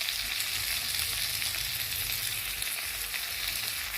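Steady, close sizzling of an onion, tomato, ginger and cumin paste frying in a pan, a dense continuous hiss with no talking.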